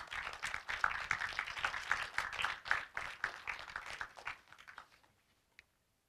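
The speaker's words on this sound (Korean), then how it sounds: "박수 부탁드리겠습니다" Audience applause fills an awards ceremony hall after a journalism prize winner is announced, dense clapping holding steady for several seconds before thinning out and stopping.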